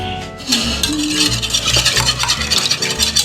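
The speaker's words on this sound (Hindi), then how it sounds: "अंडे को हम मिक्स कर लेंगे।" Eggs being beaten in a bowl for an egg paratha: rapid whisking scrapes and clinks against the bowl, close and busy, with a low background hum.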